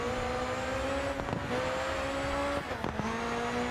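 Race car engine in GRID 2 holding a steady droning pitch through delicate cornering, with brief dips and shifts in tone, loud and continuous with no talk.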